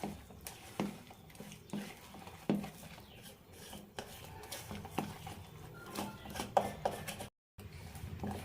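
Athirasam rice dough is worked by hand or spoon in a bowl, giving soft irregular scrapes, pats and occasional clinks against the bowl, close and fairly quiet.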